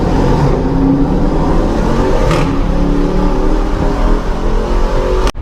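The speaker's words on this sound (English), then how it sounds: "always peel out as crazy as possible with traction control off" Dodge Challenger peeling out with traction control off: a loud, sustained engine roar under hard acceleration, steady throughout, cutting off abruptly at the end.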